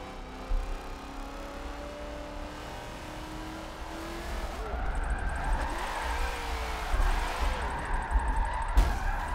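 Car engine drifting through a hot lap in Forza Motorsport 7, a steady droning motor that rises and swells into revving and tire squeal in the second half, up close and loud with no talk.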